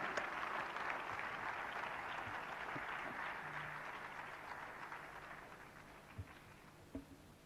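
Audience applause at a law alumni colloquium hall, a broad steady wash of many hands clapping that gradually thins toward the end, with a couple of sharper knocks near the close.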